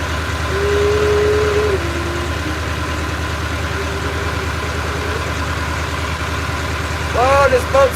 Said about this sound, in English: this boat's so loud